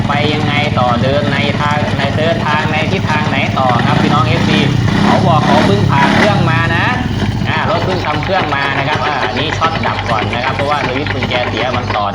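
A Honda Wave 100 motorcycle engine with an abnormal noise runs at a steady, loud mechanical drone throughout, while someone talks over it.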